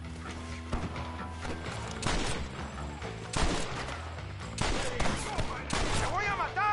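A gunfight in Red Dead Redemption, with volleys of close, loud gunshots crackling in repeated bursts, mixed with shouting voices.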